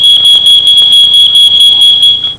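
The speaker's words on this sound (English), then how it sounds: "The smoke detector goes off" A smoke detector alarm shrieks loudly and close by with a continuous piercing high tone and a rapid pulsing overtone, sustained for a couple of seconds before cutting off.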